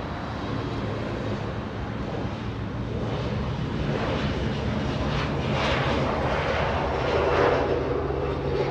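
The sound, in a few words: Air Force One jet aircraft departing LAX northbound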